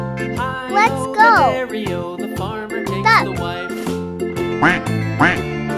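Playful duck quacks for a children's farm animal coloring activity: several squeaky, bending calls spaced over a bouncy, jingly background tune.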